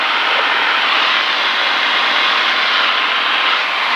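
Light aircraft on approach to Bowman Field, a constant loud engine and airflow drone heard from inside the cockpit, unbroken for the whole span.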